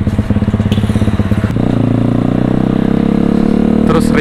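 A Viar Cross-X 200 SE motorcycle rides through town, its engine running close and steady, pulsing at first and then settling into a sustained drone, with someone talking over it.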